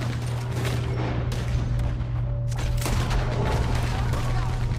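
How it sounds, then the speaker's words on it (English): A Gatling gun fires in Red Dead Redemption 2 during a battle against the army. A dense, continuous rattle of rapid shots runs under a steady low rumble, with a brief lull partway through. "Oh, great, a Gatling gun."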